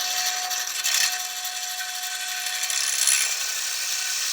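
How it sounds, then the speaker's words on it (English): A 1-inch bit bores down through wood on a drill press to meet a groove, a steady rasping, grinding cut that stays fairly even with slight surges, close by and alone. "Now drill down with that drill bit till it meets that groove."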